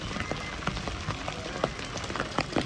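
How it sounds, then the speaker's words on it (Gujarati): Rain patters on a hard surface nearby, with scattered sharper drops tapping irregularly through a steady wash. "વરસાદ શરૂ થઈ ગયો"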